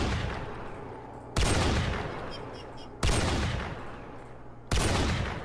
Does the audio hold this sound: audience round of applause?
no